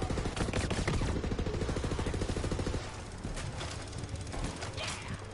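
Rapid automatic gunfire in the shooter game Borderlands 3, a dense, loud burst of shots for about three seconds, then scattered fainter firing and game effects.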